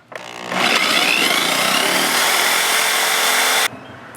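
A power drill runs loud and steady for about three seconds, boring through metal with a harsh, grinding whine before cutting off abruptly.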